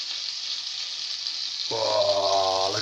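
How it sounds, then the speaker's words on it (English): Butter frying Christmas cake in a saucepan: a steady bright sizzle that suddenly grows louder and fuller partway through, close and continuous, no talking. "Sizzling away nicely now. Butter's really going for it."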